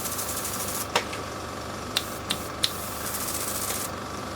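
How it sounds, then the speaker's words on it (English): A 0.5mm airbrush sprays paint with a steady hiss running continuously close by, broken by a few faint clicks and brief bursts of air; no voices. "you can hear that there's a noticeable difference in the sound of the airbrush"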